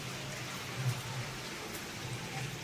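Steady rain falling outdoors, a continuous soft hiss with faint patter, no voices.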